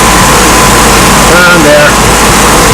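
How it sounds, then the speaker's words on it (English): A GMC truck engine runs steadily with a newly fitted serpentine belt, a loud, close, continuous droning idle with no pauses. "Okay, it's running. There's the new belt."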